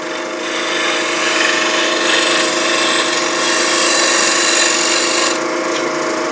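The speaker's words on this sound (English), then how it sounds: "You could use a bowl gouge." A wooden sphere being turned on a lathe with a bowl gouge gives a steady, loud, continuous rasping hiss of cutting. The tone stays even throughout with no pauses.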